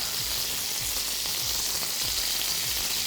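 Pork pieces frying in hot oil in a pan for Georgian ojakhuri give a loud, steady sizzle with crackling pops scattered throughout and a few soft scrapes.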